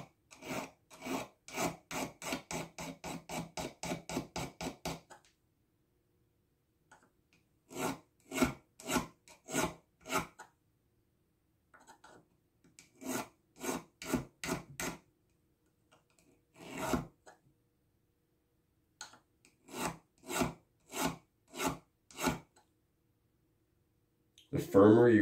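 A hand file rasps over a crucifix in rhythmic strokes, quick even runs of scraping separated by short pauses, close and clear with quiet speech between some of the passes.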